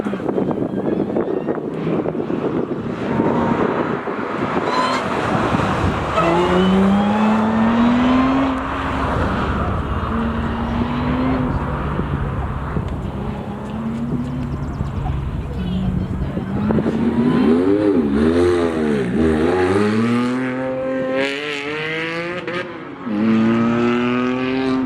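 Engine noise of a race car on a track, rising and falling in pitch as it accelerates and shifts, with wind buffeting and someone talking over it throughout.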